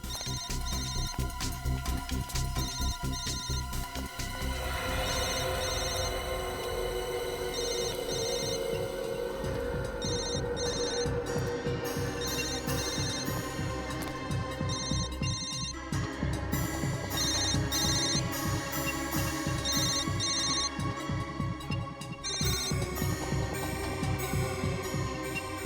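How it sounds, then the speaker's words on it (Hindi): A mobile phone ringtone rings out in repeated bursts, a bright electronic melody cycling over a low throbbing background tone, with no voices over it. "Sir, bell."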